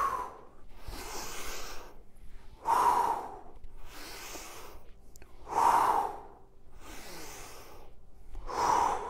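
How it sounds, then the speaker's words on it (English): Heavy rhythmic exercise breathing during a home workout, with forceful exhales through the mouth and quieter inhales repeating roughly every three seconds, close up with no talk. "inhaling on the way down, exhaling through the mouth on the way up"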